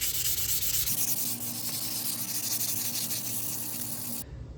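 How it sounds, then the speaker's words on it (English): Wet sanding of a carbon fiber car part with P400 sandpaper, a steady close abrasive rubbing hiss with a faint lower scraping layer underneath, continuous for several seconds before stopping abruptly. "With wet sanding complete with P400"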